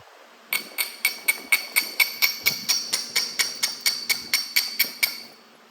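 Rapid, steady series of about eighteen sharp percussive strikes from flintknapping, shaping a preform of Florida coral and working off the crusted side, each a bright clicking crack with short ring, close and loud with no talking.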